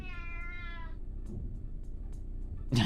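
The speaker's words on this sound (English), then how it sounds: "Listen to the insanity of the cat." A cat meows once, a drawn-out harmonic cry lasting about a second, then quiet with faint clicks and a sharp noise burst at the end.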